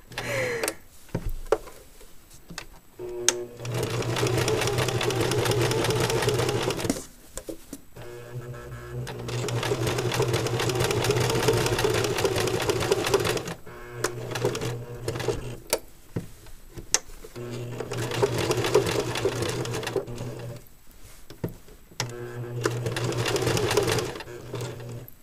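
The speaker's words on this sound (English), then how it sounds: "I just like locked in this stitch by like stitching backwards." A sewing machine stitches applique onto a dress in several bursts of rapid, buzzing clatter separated by short pauses, with a few backward stitches locking the seam.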